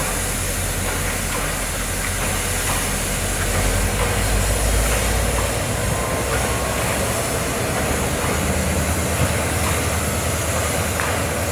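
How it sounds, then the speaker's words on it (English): A diesel locomotive idles and builds power at a Grand Canyon railway run, a steady low rumble with faint hiss and clanks held at moderate distance, no voices. "You hear the diesel locomotive ramping up."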